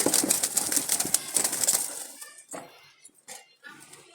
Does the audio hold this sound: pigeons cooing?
yes